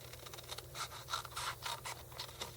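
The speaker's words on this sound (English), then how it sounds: "you're just going to take your scissors and you're going to cut straight in" Scissors snipping through paper in a craft tutorial, a series of short crisp cuts repeating about every half second, close and fairly quiet over a low steady hum.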